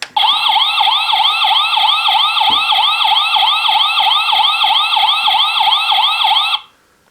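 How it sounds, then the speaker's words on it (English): A loud electronic siren from a Tomica Hero Rescue Fire DX toy wails in fast, repeating up-and-down sweeps, close and tinny, for several seconds before cutting off abruptly. "you'll get siren sounds and flashing lights"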